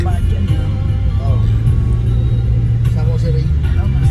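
Street traffic somewhere in the Philippines, a loud continuous low rumble of passing cars and engines, with a voice talking over it.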